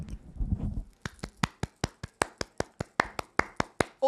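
Two hands clap in a steady, evenly spaced rhythm, about fourteen sharp, close claps in a row, preceded by a brief murmur of voice.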